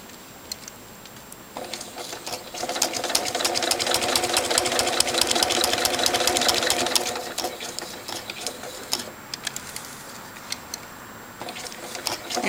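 Sewing machine stitching through metal, its needle hammering in a fast steady rattle that swells loud for several seconds, then thins to scattered ticks and a quieter run.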